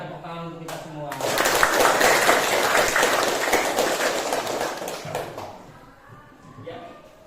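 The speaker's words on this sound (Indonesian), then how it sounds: "Oke, tepuk tangan untuk kita semua." A group of students applauding in a classroom, several seconds of dense clapping hands that rises quickly, holds, then tapers off, with a voice before and after.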